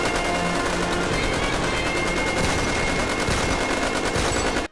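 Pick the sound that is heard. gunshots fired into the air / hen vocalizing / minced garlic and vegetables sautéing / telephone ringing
gunshots fired into the air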